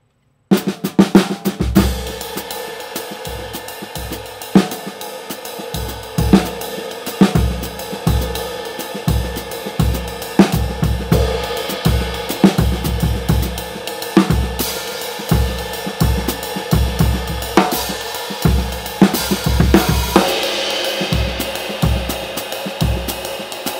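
A busy jazz drum groove with crisp snare accents popping out over quieter ghost notes and cymbal wash, played steadily throughout.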